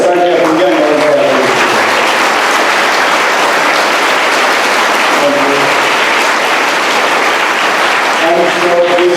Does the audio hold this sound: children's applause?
yes